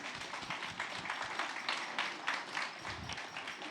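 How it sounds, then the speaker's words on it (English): Audience clapping for a panel at a news-and-brews community discussion, a scattered, moderately loud patter of hands that rises and falls briefly with no voices over it. "Let's give our panelists a big round of applause."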